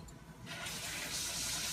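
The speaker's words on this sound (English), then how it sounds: "Alright, it says pour some of this oil" Cooking oil pours from a bottle into a pot while preparing South African oxtail stew, a quiet start giving way after about half a second to a steady, close liquid stream that keeps running.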